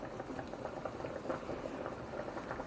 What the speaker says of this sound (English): I have it on a medium-high heat because I want this to come to boil fast.